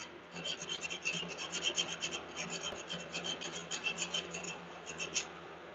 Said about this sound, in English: just use the chainsaw file.